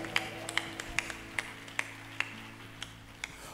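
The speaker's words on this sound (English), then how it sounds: "come on, clap your hands for Jesus" Rhythmic hand claps from an audience at a gospel concert, evenly spaced sharp claps about twice a second, fairly faint over a low sustained musical hum.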